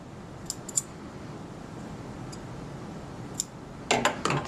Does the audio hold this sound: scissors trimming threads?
yes